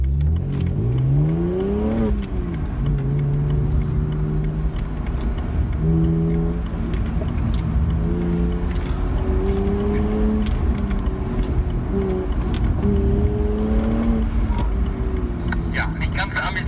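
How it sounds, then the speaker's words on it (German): Car driven at full throttle then braked hard on an ADAC sports-driving training course, its engine rising and falling in loud repeated revving sweeps over about sixteen seconds, with people talking throughout. "wo man mit Vollgas und Bremse durchkommen muss und gegen Ende nochmal eine Vollbremsung in die Gasse"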